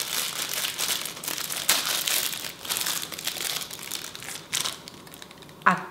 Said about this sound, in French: Bon, je vais essayer de l'ouvrir.